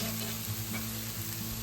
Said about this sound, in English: So we saute